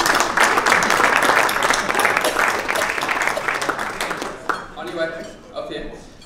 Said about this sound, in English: Kelly, let's give a massive round of applause as Kelly joins us on stage.